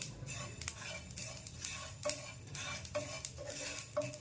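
Sesame and poppy seeds dry roasting in a pan, with a spoon or spatula scraping and tapping the pan in a loose rhythm, quiet and close, under a faint background crackle.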